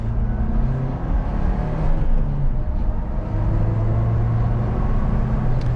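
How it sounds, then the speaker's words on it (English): A 2021 Ford Bronco Big Bend with a six-speed manual accelerating in second gear, heard from inside the cabin as a steady, loud engine drone with rising tones, without talking. "So we'll go into second gear. Feels peppy."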